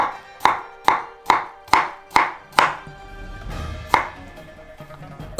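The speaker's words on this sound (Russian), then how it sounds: "Берем огурец и нарезаем его очень тонкой соломкой." A knife chops a cucumber into thin strips on a board, giving six quick, evenly spaced sharp taps followed by a couple of slower scattered cuts, close and alone.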